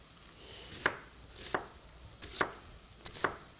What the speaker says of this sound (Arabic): يا عيني على تقطيع البصل.